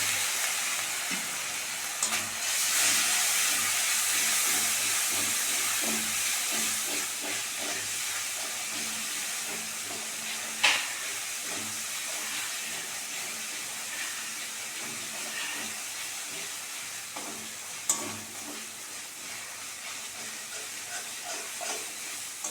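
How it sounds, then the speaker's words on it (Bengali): Spice paste of ginger, garlic, chilli powder and turmeric with a little water sizzling in a pan for soya bori curry, a steady loud hiss of frying with a couple of sharp clinks from a utensil. "মশলাটা ভালো করে ভেজে নিয়েছি।"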